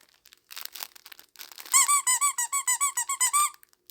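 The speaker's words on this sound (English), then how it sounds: "So I am going to squeak one just to see what happens." A squeaky dog toy is squeezed repeatedly: a few faint rustles first, then about a dozen loud, evenly spaced high-pitched squeaks in quick rhythm, close by and on their own.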